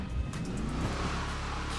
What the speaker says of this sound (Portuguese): Escutar o ronco do motor.